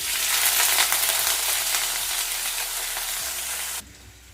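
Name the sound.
sliced onion frying in a pan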